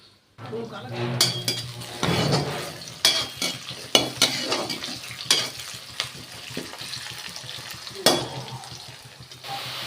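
Brinjal and potato pieces fry in oil with a steady sizzle, broken by repeated clinks and scrapes of a spoon stirring against the pan, the loudest knocks landing every second or two.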